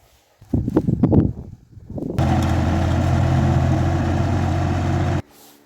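A tractor pulls up to plough a vegetable garden. A few footstep-like knocks come first, then a steady engine idle runs for about three seconds before cutting off sharply.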